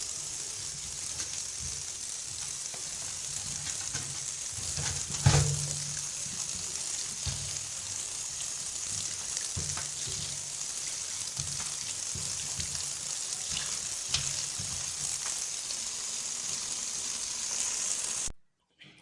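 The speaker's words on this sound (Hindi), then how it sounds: "स्ट्रॉबेरीज को हम धुलाई कर लेंगे अच्छे तरीके से।" Strawberries being washed under running water, a steady hiss of flowing water with faint splashes and rustling throughout, one brief louder splash partway through.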